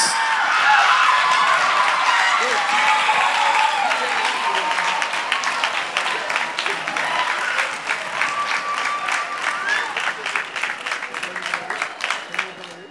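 Audience at the NYCDA Phoenix Nationals dance competition applauding the newly announced teen winners, with loud sustained clapping from a large crowd that thins into scattered, distinct claps toward the end.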